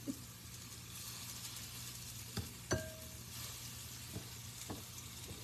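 Parmesan chicken meatballs sizzling in a hot skillet, a steady, even fry hiss holding throughout with a few sharp clicks and pops, plus a low background hum.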